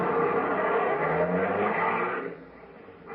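A car sound effect from an old-time radio comedy, a steady engine roar with a tire-like squeal, loud and close, fading out near the end with no talking over it.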